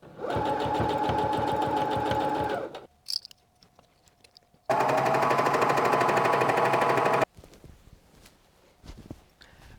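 Sewing machine topstitching the seams of a sweater made from upcycled blankets, two loud, steady bursts of close mechanical stitching separated by quieter handling noise.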